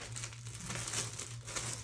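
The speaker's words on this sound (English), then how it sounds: "we put a plastic bag on the foot." A plastic bag crinkles and rustles softly, close by, as it is pulled onto a foot during orthopedic footwear casting, over a low steady hum.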